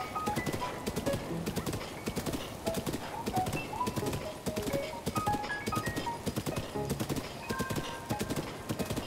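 Horse hooves clip-clop in a steady, brisk rhythm throughout, loud and close, in The Legend of Zelda: Breath of the Wild, with a brief whinny-like sound and faint game ambience beneath.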